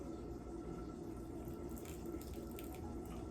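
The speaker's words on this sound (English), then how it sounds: "You wanna add a couple tablespoons of red wine vinegar." Red wine vinegar is poured by the tablespoon into a basil recipe, a soft, steady liquid trickle, faint and close, with no talking.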